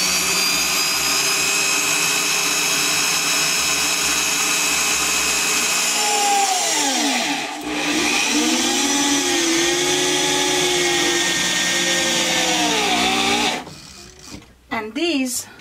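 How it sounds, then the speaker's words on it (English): An electric drill or driver sinks self-countersinking screws into a DIY bookcase, its whine rising and falling in a few bursts against a steady motor hum, fairly close, ending with short clattering bursts. "let me screw them in"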